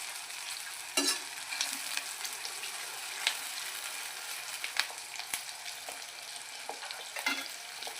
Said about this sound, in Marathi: चांगलं गोल्डन होईपर्यंत आपण आहे ना याला चांगलं मिक्स करून घ्यायचं.